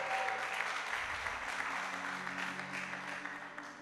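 A church congregation applauds together, a dense burst of clapping that stays loud and steady before slowly easing off, with a faint voice near the start.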